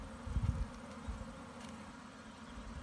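Honey bees humming around a brood frame lifted from a hive, a steady low buzz with a few louder passes close by in the first second.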